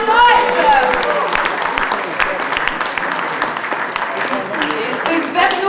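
An audience at a 2015 slam poetry contest applauds a poet with loud, dense clapping and a few cheering voices, sustained throughout.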